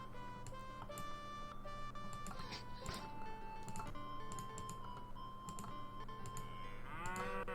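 Cattle moo in the Lords of the Realm strategy game, a low bovine call set against layered, busy game music and chimes, with no talking.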